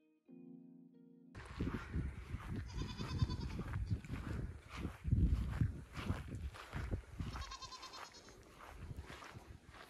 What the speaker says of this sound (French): Il y a un troupeau de 5 chèvres naines juste derrière la maison